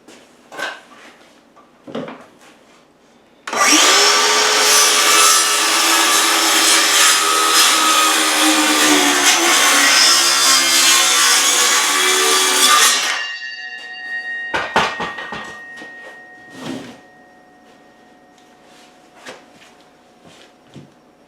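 Wooden board sawn to trim three inches off the end for a chicken coop floor, a loud, continuous rasping cut of about ten seconds, close, followed by scattered knocks and thuds of the wood being handled.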